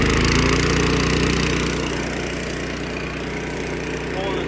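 A Billy Goat F601 walk-behind leaf blower with a Subaru engine runs steadily at high throttle, a loud continuous engine roar that eases slightly partway through.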